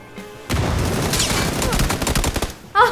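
Gunfire in the battle game PUBG: after a short quiet lead-in comes a dense burst of rapid automatic shots, loud and close, running for about two seconds and then breaking off into a sharp final blast.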